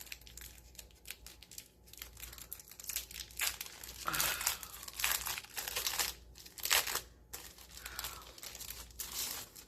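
Envelopes torn open and paper crinkled up close, a steady run of rustling, crackling and tearing bursts with no talk.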